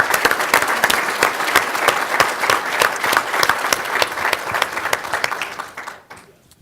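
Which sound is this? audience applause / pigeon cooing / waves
audience applause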